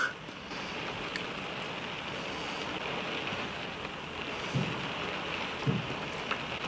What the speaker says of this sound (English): I'm not sure whether you can hear all the rain.